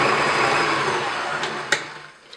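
An electric mixer whirs steadily as it creams butter and sugar in a bowl, a close, continuous motor hum that fades slightly, ending with a couple of brief clicks.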